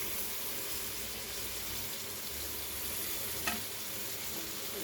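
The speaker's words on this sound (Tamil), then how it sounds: "ரெண்டையும் சேர்த்து நல்லா கலக்கி வைப்போம்" Salt, coriander leaves and mint leaves being stirred into a cooking dish, a steady soft sizzle with scraping under it and one brief clink partway through, no talking.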